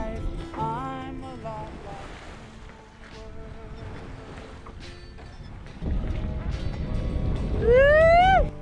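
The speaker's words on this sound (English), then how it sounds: "we were able to raise both sails and had a smooth entrance into the open ocean" A sailboat under both sails heads out onto open ocean, with a steady rush of wind and waves that swells louder near the end, while brief tonal sounds rise above it.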